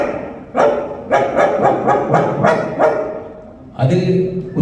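A man mimics a dog, giving about seven loud, close, voiced barks in quick bursts with short gaps between them, at a state conference gathering.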